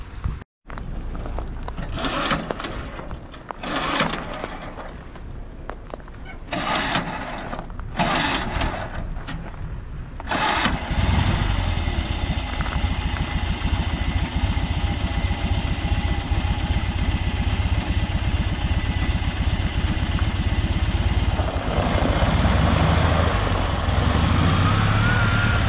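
M274 A2 Mechanical Mule engine running loud and close in low first gear, with a steady throbbing drone after an uneven, sputtering start.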